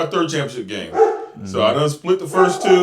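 Dogs bark in the background, faint and intermittent beneath someone talking steadily in the foreground.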